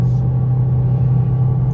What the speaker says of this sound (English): I definitely hear the gas engine.